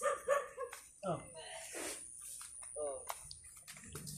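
A dog barks and whimpers in short bursts amid lively overlapping conversation, with a faint steady high-pitched tone running throughout.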